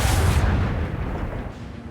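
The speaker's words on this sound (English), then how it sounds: "Commence torpedo launch." Torpedoes launch in the video game Warhammer 40K: Rogue Trader with a loud, deep booming blast that rumbles and fades away over a couple of seconds, with no voices.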